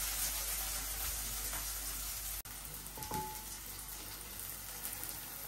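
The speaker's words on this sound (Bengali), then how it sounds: "আলুটা একটু কষানো হোক, একটু ভাজা হোক" Potato pieces frying in oil in a pan, a steady soft sizzle running throughout at low level, with a brief clink of cookware near the middle.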